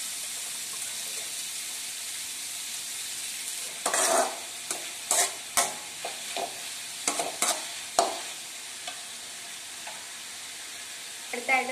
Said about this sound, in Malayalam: സവോള ഒന്ന് വഴന്ന് വരാൻ വേണ്ടിയിട്ട് ഞാൻ അല്പം ഉപ്പ് ചേർത്ത് കൊടുക്കുകയാണ്